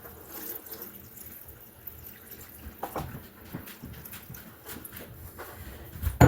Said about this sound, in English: And then to this, we're going to add 4 cups of water.